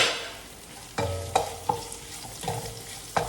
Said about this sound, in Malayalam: സവാള ഇട്ട് വഴറ്റണം.